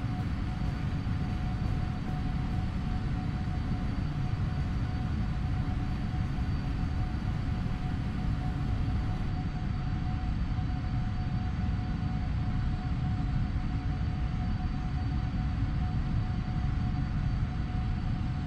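Boeing 777-300ER engines at takeoff thrust in the Prepar3D flight simulator, a loud, steady broadband roar with a faint whine on top that holds unbroken and close throughout, with no talking.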